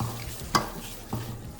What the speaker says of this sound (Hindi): ये मैं मूंगफली डाल रही हूँ इसमें